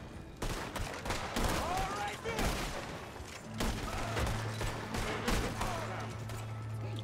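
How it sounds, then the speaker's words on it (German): Repeated volleys of gunfire in a video game, sharp shots and bursts at mid distance over a constant engine-like drone, with speech mixed in. "Ja, schießen sie schon."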